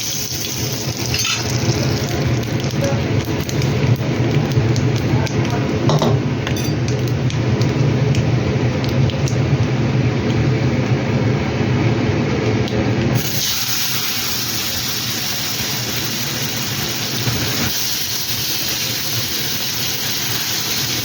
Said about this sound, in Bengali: মাছগুলো নুন হলুদ দিয়ে ভাজতে বসিয়ে দিয়েছি